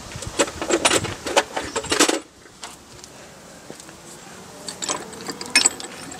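Socket ratchet clicking in quick bursts while working on the front brakes of a Rover 75 CDT, busy and close for the first two seconds, then quieter with scattered metallic clicks and taps.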